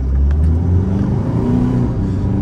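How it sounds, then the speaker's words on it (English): A turbocharged car pulls away from a stop, its loud, close engine droning low and steady as it accelerates. "So I could already see the turbo lag when it took off to about 1500 RPM."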